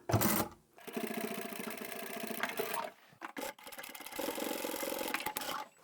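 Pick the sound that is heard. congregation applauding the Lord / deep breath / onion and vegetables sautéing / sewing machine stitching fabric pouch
sewing machine stitching fabric pouch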